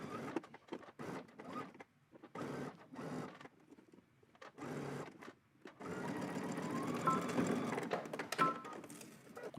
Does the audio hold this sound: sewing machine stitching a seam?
yes